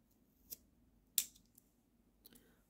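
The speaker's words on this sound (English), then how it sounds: "be super careful with a sharp X-Acto knife and trim off this part" A sharp X-Acto knife trims a small part, giving three quiet close snips or slicing clicks, the middle one the sharpest, in an otherwise hushed room.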